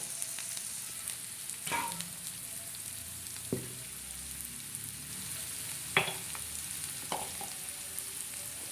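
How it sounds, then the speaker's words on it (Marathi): Onions sizzle in a pan for a spicy Maharashtrian kurdai bhuga, with a constant frying hiss broken by four sharp spatula scrapes as the onions are stirred. No voices are heard. "आता हा कांदा चांगला आपण परतत आहोत"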